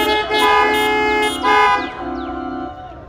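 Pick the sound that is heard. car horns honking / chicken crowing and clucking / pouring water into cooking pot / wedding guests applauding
car horns honking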